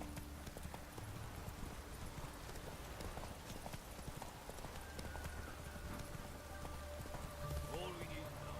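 Horse hooves clip-clop in a steady trotting rhythm from The Witcher 3: Wild Hunt, with a continuous rain-like wash around them and a faint whinny or tonal cue near the end.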